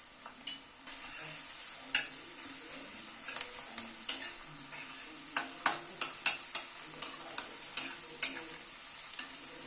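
Crushed garlic frying in a pan over a steady bright sizzle, with a utensil scraping and tapping against the pan in a quickening rhythm of strokes, close and without talking.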